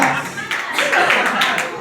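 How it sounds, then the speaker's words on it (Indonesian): Audience applause for contestant number 18 at a church Bible-reading competition, a dense, steady patter of many hands clapping throughout, with a voice briefly heard over it. "Berikan tepuk tangan, inilah dia nomor undi"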